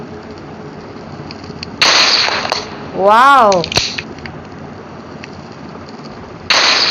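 A game RPG firework rocket goes off in a rising, whistling sweep and a sharp crack amid loud bursts of video-game explosions and destruction in a city, with a voice exclaiming over it.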